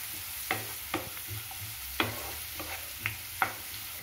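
Onions and capsicum sauté in a pan with curry leaves for an egg pepper fry, a steady sizzle broken by about seven sharp spatula scrapes and stirs, close and without talk.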